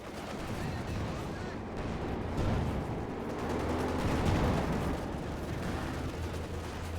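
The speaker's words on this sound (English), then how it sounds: "Heavy mortar there, taking quite a bit of damage here from Stuve's Panzerwaffe." Battle sounds from Company of Heroes 2 during a Wehrmacht versus Soviet match: heavy mortar blasts and gunfire merge into a dense, continuous rumble of explosions and shots, fairly quiet and unbroken throughout.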